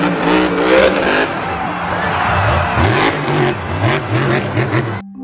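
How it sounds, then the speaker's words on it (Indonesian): Toy monster truck engine revving sound effect, a loud continuous rumbling rev with rising and falling pitch sweeps lasting several seconds, ending in a brief steady tone. "Mobil truk monster."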